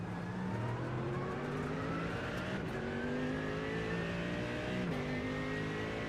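A GTP prototype race car in iRacing at a rainy Monza drones past at high revs, its engine pitch climbing through gears with brief shift breaks, loud and constant over steady road and spray noise.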